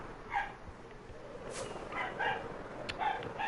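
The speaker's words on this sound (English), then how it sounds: "dog's going off again" A dog barks and yips several times at a distance, the short bursts scattered over a quiet indoor background.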